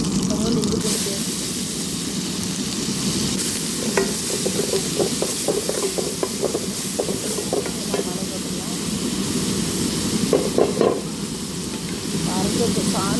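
Mustard seeds, curry leaves, chillies and ginger-garlic paste fry in hot oil with a loud, continuous hiss and bursts of spluttering, spoon scrapes scattered through, while a voice talks intermittently.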